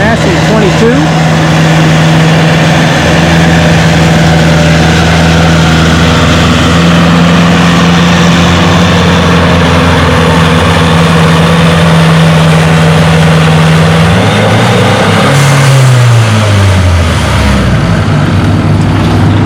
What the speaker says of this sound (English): Tanner Bauman up next on a Massey 22.